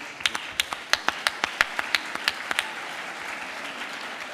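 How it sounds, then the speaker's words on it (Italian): Sparse applause at a session of the Barcolana Sea Summit on energy and climate: a dozen or so distinct, spaced claps from a few hands, fading into quiet room noise. "Un applauso."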